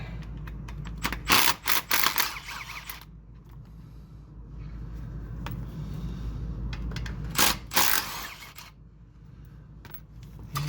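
A ratchet rapidly spins out the oil pan bolts on a BMW E46, bursts of fast metallic clicking in two clusters with quieter pauses and bolt clinks between them.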